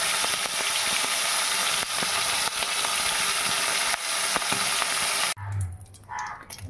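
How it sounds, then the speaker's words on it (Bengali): Marinated folui fish fry in oil in a wok with a loud, steady sizzle that runs without a break for about five seconds, then cuts off abruptly, leaving quieter low clatter and handling noises. "কড়াইয়ে তেল দিয়ে আমরা একটা একটা করে মাছ ভেজে নেব।"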